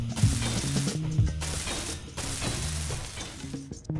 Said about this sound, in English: Let's weld this up real quick, and then we'll work on how that's going to connect for the capital ship.